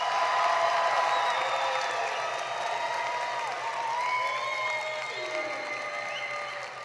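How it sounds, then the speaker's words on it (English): Audience applause at a 2022 graduation ceremony for Polk Grad Academy and Polk Virtual School students, a broad sustained wash of clapping heard somewhat distant in a large hall, fading slightly toward the end, with faint whistling tones over it. "Let's give it one more round of applause for these students."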